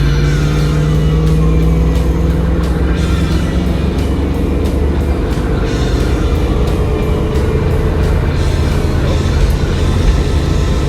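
A car engine roars loudly and continuously as the accelerator is floored, a steady, close, full-throttle drone with slight shifts in pitch and no speech.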